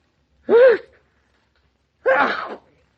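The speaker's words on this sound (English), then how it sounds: "Have you been sneezing all day?" Two sharp sneezes, close and loud, separated by a short silence; each one a quick burst ending in a breathy release.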